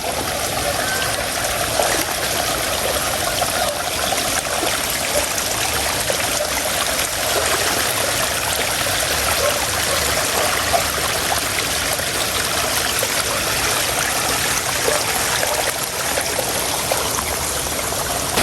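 Floodwater from an overflowing river rushes steadily into a fish pond, a loud, continuous broadband roar of pouring, churning water with no break across the whole stretch.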